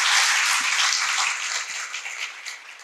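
An audience claps to welcome a guest to a panel session, with bright, dense applause that is strongest at the start and slowly thins and softens.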